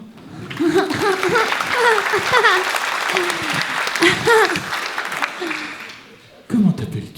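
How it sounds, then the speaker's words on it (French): Theatre audience applauding a boy brought on stage at a season presentation, a broad clapping wash running beneath someone speaking loudly over it, briefly dipping before rising again at the end. "Vous pouvez l'applaudir bien fort."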